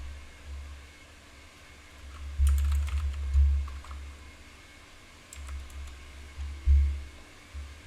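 Computer keyboard typing comes in a few short bursts of keystrokes over a low steady hum, moderately close and with no talking.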